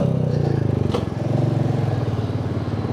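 A motorbike slips into neutral on a hilly route. Its engine putters steadily and close, with a brief clunk and a dip in the note around the shift.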